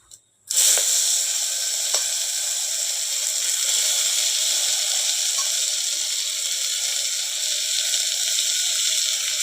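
Toor dal, moong dal and rice hit hot oil in a pot, setting off a sudden loud, close hissing sizzle that stays steady and strong after a brief quiet clunk at the start.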